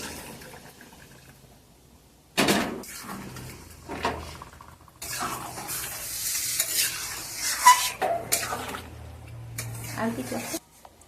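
Hot water is poured into sizzling fried mutton in a pan, bursting into loud hissing sizzle and bubbling after a quiet start, with pan scrapes and stirring knocks along the way and a person talking over parts of it.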